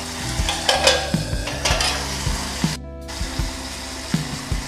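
Jute leaves stirred in a pan with salt and a little turmeric, a steady sizzle broken by regular knocks and scrapes of the spoon against the metal, close by with no talk.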